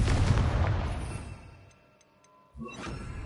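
A Confringo fire spell cast in Hogwarts Legacy bursts with a loud, booming blast that crackles and decays into a quiet lull, before a second sharp impact strikes near the end.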